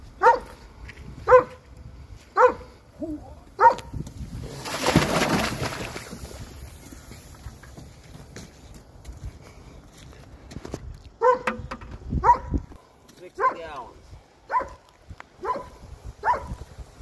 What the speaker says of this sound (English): What are you barking at, eh?